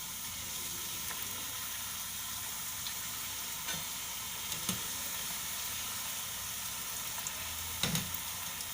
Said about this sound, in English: The oil is hot. Let me drop the puris.